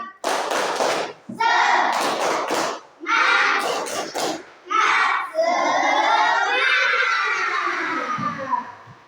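A group of schoolchildren performing a tepuk semangat clapping chant, loud shouted sung phrases in bursts with brief pauses, voices close and energetic, ending in a long drawn-out call.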